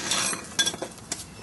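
A wrench gets picked up beside a lawn mower being readied for cutting, with a few quick, close metallic clinks and rattles over about a second.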